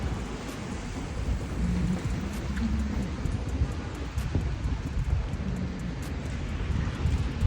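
Steady outdoor rain in bad weather, a dense continuous wash of noise with wind buffeting the microphone and occasional rustling, no voices.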